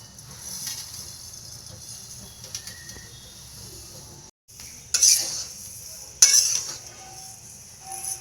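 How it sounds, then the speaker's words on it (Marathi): Coriander seeds being roasted with a little oil in a hot kadhai, with light sizzling and occasional stirring scrapes, two sharper clatters of the spoon against the pan standing out near the middle. "आपण त्यात टाकतोय आता धने भाजायला"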